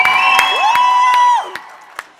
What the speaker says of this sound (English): a big round of applause for David Higgs